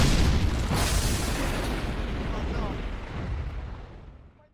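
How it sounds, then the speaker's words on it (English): Explosives detonating at a dam in a film, a massive close boom that rumbles on and slowly fades into a long decaying roar. "She signals Abigail, who detonates explosives at the dam, completely destroying Duke's resort project."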